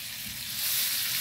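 Garlic and shrimp fry in butter with spices, giving off a steady, close, hissing sizzle that swells slightly, with no voices.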